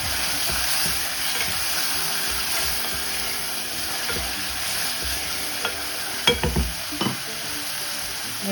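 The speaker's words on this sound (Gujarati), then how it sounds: "પેલા દાળનો વઘાર કરવાનો." Chana dal tempering in hot oil in a pan gives a steady, close frying sizzle throughout, with a few louder scrapes and knocks of a stirring spoon near the end and no talking.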